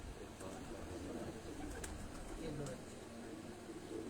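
Domestic pigeon, a three-year-old racing hen, cooing in a loft amid steady background noise, with voices talking nearby.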